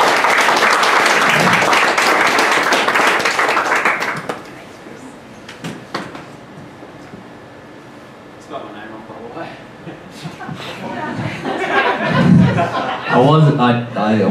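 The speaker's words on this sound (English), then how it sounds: "Jessica Trengo and Jeffrey Risley, give them a round of applause." A seminar audience applauds two guests at a running health event, loud clapping for about four seconds that then dies away into quieter room sounds, chuckles and a few voices.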